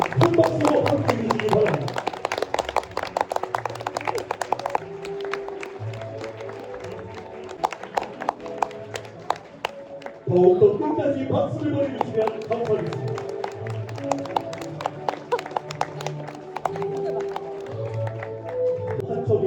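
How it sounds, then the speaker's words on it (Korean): Wedding guests clap as the two mothers in hanbok walk in for the entrance at a Korean ceremony. A dense, rhythmic patter of hand claps runs throughout, beneath background music and a host speaking. "저희들의 박수 소리가 작은 것 같은데요."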